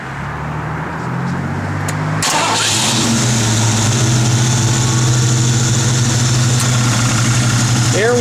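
A 1972 Ford Mustang Mach 1 V8 cranks briefly, fires up loudly and settles into a steady, rumbling idle close by, with a faint voice over the engine.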